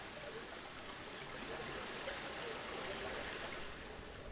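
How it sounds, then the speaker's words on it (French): Steady, dense rush of water from a waterfall cascade in the zoo-building video game Planet Zoo, built in a saltwater crocodile habitat; a continuous broadband roar at an even level with no talk over it. "Un rapide cascade qui rend plutôt pas mal, ici."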